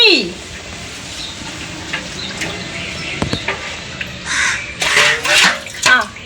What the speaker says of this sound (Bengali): এখন হলো বড়িগুলো ধুয়ে দিচ্ছি